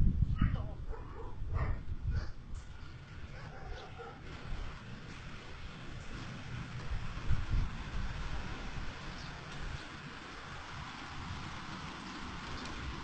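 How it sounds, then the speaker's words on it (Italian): Dogs barking and yelping in the distance during a tornado in Borgo Hermada, Latina, Lazio, heard early on as short bursts over strong gusting wind roar, with faint voices nearby. "Ecco i cani abbaiano"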